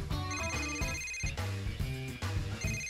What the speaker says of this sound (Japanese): またもや着信音が鳴る